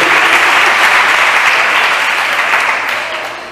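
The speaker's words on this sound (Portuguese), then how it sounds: "Então eu queria que vocês recebessem aqui o pastor Michel com uma salva de palmas" Loud, close crowd clapping from a church congregation at a youth service, holding strong and even before tapering off over the last half second.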